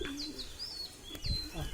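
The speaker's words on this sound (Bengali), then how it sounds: "দেখুন টংমং করছে কবুতরটা" An Andhra pigeon coos nearby as it is fed rice grains, a few soft repeated cooing calls with faint rustling underneath.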